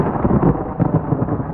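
Thunder rolls through a fierce electrical thunderstorm, a loud, deep, continuous rumble with no pauses and no voices.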